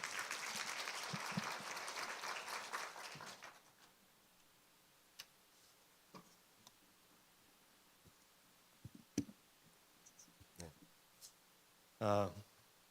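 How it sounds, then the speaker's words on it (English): At a high-level forum, an audience gives a round of applause welcoming the Vice Minister, loud clapping that stops after about three seconds, followed by quiet scattered clicks and small knocks. "please join me in welcoming our Vice Minister with a big round of applause"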